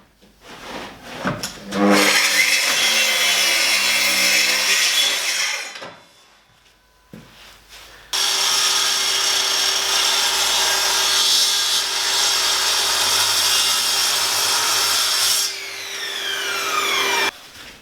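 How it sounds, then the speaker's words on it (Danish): A table saw whines up and bites into a pear wood plank, ripping it into strips in two long loud grinding cuts with a short pause between, then spins down. "jeg sætter bordsaven op efter den og skærer pæreplanken ud i strimler"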